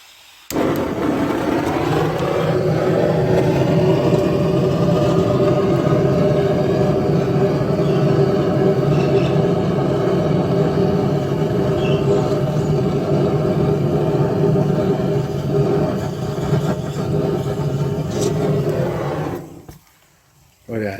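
A homemade waste oil heater, freshly lit with a gas lighter on its first start-up, roaring loudly and steadily for about eighteen seconds before cutting off abruptly.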